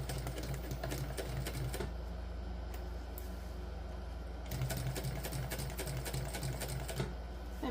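Sewing machine running steadily as it stitches together pieces of a crossbody bag, close and loud, with a brief pause midway before the needle resumes its rapid rhythm, no talking.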